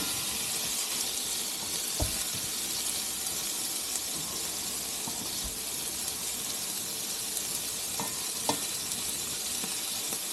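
Vegetables including carrots sizzling in a stir fry on an induction cooktop inside an Airstream motorhome, a steady hiss with a few sharp clicks and knocks scattered through, no talking.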